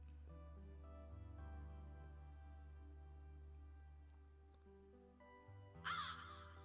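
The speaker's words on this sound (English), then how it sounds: "just wait for the birds to scare you away" A crow caws once, sharp and fairly close, near the end of a quiet stretch of soft droning game music in One Eyed Kutkh.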